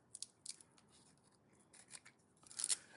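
Scissors snip through material for a plant support for a Strawberry Shake Philodendron, a few quiet close crisp cuts with faint rubbing between them, louder snips near the end.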